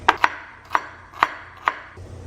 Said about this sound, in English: Also gonna cut up a celery stick.